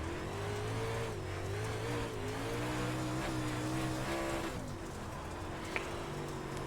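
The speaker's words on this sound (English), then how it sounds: "really throttling out of the corner" A race car engine revs and throttles out of a corner on a slick track, a steady sustained drone with shifting pitch that dips briefly near the end, close and continuous with no talk.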